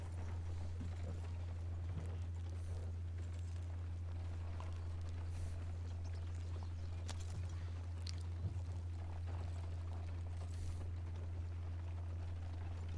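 A horse steps in slow, sparse clip-clops, fairly faint, over a constant low hum, with no talk.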